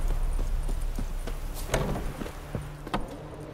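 Horse hooves clip-clop on the ground in The Witcher 3 on PlayStation 4, a handful of distinct close steps over a low ambient game backdrop, with a louder thud or two near the middle.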